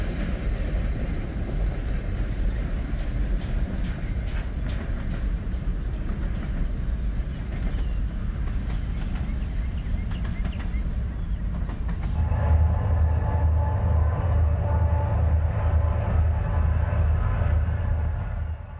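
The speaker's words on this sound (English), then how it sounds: "a CSX work train heads north. The locomotive has its long hood forward." A CSX work train rolls north on the Chattanooga subdivision, its locomotive running long hood forward, with a steady loud rumble of engine and wheels. Near the end the pass grows heavier, with a low droning hum.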